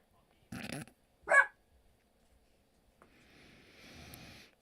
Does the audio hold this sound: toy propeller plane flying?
no